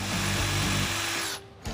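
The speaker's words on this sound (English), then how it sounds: "It's like some kind of ultra hard steel that just doesn't drill. It literally doesn't drill. That's a carbide bit." A drill grinds against ultra hard steel with a carbide bit, a steady loud mechanical whir with ratcheting pulses that cuts out briefly near the end before spinning up again.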